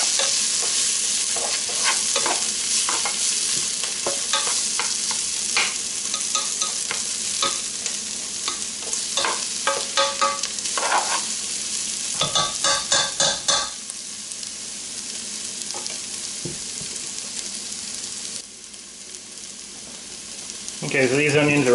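Onions for an Irish stew fry steadily in a pot, a continuous sizzle broken by frequent scraping stirs, loud and close, with a brief busier flurry of stirring partway through.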